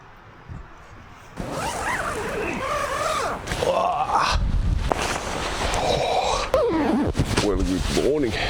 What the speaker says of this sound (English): It is crazy windy here. Crazy wind.